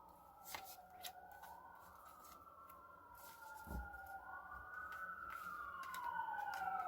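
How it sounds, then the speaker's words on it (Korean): A siren wails in a slow rising and falling pattern, growing gradually louder as it approaches, with faint clicks and rustling nearby. "사이렌 소리가 또 울리면서 또 구급차가 지나가는 걸 보니"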